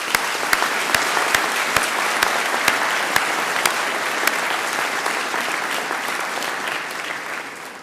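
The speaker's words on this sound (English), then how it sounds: "So a round of applause for your friends and family." A large crowd at a Queen's University Belfast summer graduation ceremony gives sustained applause for graduates' friends and family, with sharp, loud claps standing out early before the sound slowly eases.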